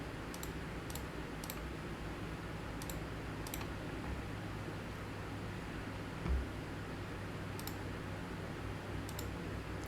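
Sparse, faint mouse clicks sound one by one on a computer running Microsoft Edge on a Microsoft Server 2025 preview, spaced irregularly over a quiet background hiss.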